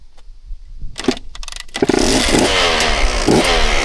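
KTM two-stroke dirt bike engine firing up after a few sputtering attempts, then catching and revving loudly and steadily up close with a raspy, crackling pitch that rises and falls.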